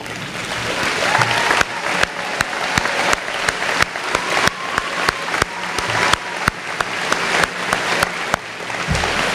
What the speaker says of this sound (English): please stand for one more round of applause.